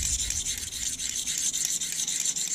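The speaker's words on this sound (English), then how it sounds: "this stone right here is just about the perfect width for doing these utility" A utility blade stroked across a Smith's pocket hone stone, producing a close, fairly loud scraping rasp with a rapid back-and-forth rhythm and no speech.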